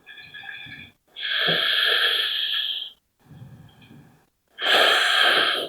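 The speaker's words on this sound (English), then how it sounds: "Big inhale. Relax, relax. Big exhale." A person breathing deeply during standing yoga poses, one long airy inhale followed by a long audible exhale, the pair heard twice and separated by short quiet breaths, close and fairly loud.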